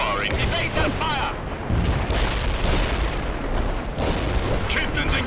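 Heavy World in Conflict combat with tanks and infantry: loud booming artillery impacts and rattling gunfire overlap continuously, mixed with clipped radio voices calling out targets.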